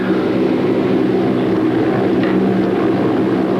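A military training helicopter at a Waco, Texas airfield idles as it readies for takeoff, a loud, steady engine and rotor drone that holds constant throughout, with no voices.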